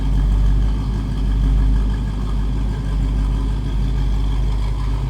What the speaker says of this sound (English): It is a 350 Pontiac V8.